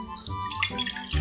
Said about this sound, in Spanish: Ahora en un recipiente vamos a echar 2 tazas de agua